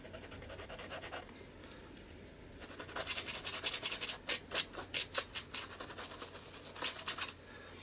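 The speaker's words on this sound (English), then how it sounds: "you can use any kind of brush for the charcoal" Stiff-bristled paintbrush scrubbing charcoal across an art journal page, a close dry rasping that starts softly, then grows into a run of quick, uneven rubbing strokes with brief pauses.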